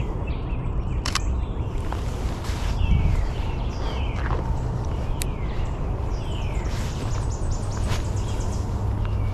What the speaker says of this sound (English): That's a good example of what the Tennessee warblers sound like.